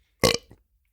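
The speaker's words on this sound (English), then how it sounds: "I was doing the burps first." After a swig of sparkling mineral water from a glass bottle, a person lets out one short, loud, close burp with a faint trailing gulp, then silence.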